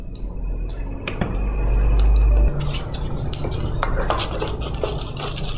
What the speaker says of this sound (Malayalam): അപ്പം നമുക്ക് വലിയൊരു സ്പൂണ് നിറച്ച് കുത്തരി ഇടാം